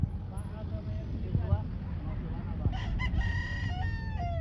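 A rooster crows several times at a gamecock expo in a Cebu City public market, heard close and clear over crowd chatter and people talking.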